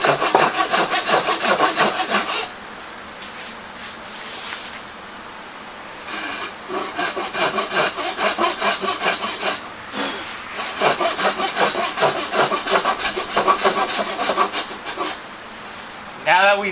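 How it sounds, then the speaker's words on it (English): A hand saw cuts through wood in rhythmic back-and-forth strokes, in several long bursts separated by short pauses. "I actually start sawing about halfway from each direction"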